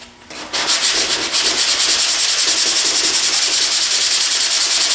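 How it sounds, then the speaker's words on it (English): A dual-action sander with 80-grit paper on car bodywork starts up after a short quiet moment, then gives a loud, close, steady whirring scrub with a rapid pulsing rhythm, and no voices. "so this is only 80 grit now"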